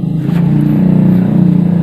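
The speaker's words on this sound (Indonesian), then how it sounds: "Di depan saya ini ada motor Supra Fit ini dengan kendala karburatornya tuh banjir terus" A Honda Supra Fit motorcycle with a flooding carburettor, its engine revving close and loud in a rough, pulsing idle that rises briefly and holds.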